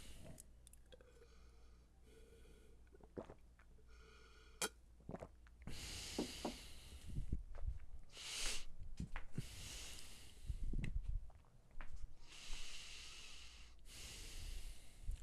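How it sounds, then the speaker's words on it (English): Quiet, close nasal breathing: several heavy snorting inhales and exhales through the nose, uneven in rhythm, alone without speech. "If you hear me doing heavy breathing through my nose"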